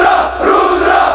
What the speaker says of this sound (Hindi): भीड़ से एक साथ नारा उठा